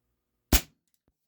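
A single sharp crack from a multi-pump air rifle firing an H&N Baracuda pellet, close and loud, decaying quickly into silence.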